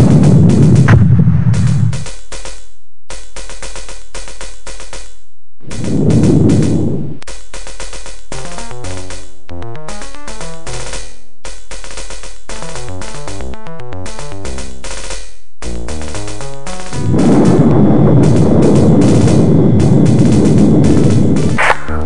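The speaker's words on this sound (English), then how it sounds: "Target locked on. Torpedoes fired. Target destroyed." Torpedo launches and explosions in the space combat game Star Crusader: repeated heavy booming blasts and rapid stuttering fire, loud and dense, with rumbling bursts near the start, middle and end.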